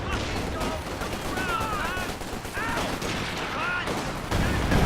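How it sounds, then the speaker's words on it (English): Strafing runs by fighter bombers in Company of Heroes, a World War II strategy game, heard as dense, sustained bursts of gunfire with whistling and whining tones over a constant battle din, loud and continuous throughout. "Fighter bombers ready to strafe targets of opportunity in target area."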